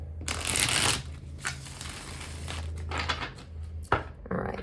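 Tarot cards being shuffled by hand in a pick-a-card reading, several bursts of crisp riffling and slapping card sounds, close and fairly loud, with brief pauses between.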